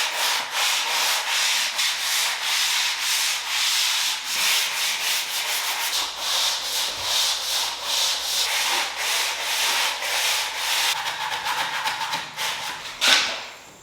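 Basement walls are sanded by hand before painting. The rough, rhythmic rubbing scrapes back and forth in steady strokes, close and fairly loud, with no voices.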